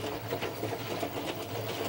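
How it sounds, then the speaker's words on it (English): An appliance's motor drive runs steadily during a test, giving a continuous, moderately loud mechanical whir with a low hum and faint rattling texture, and no talking. "At least I know the motor drive's working without complaint."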